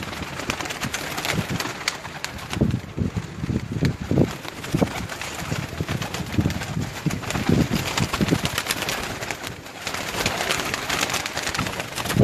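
Tournament pigeons coo in repeated low pulses close by, against steady outdoor background noise with occasional fluttering or shuffling.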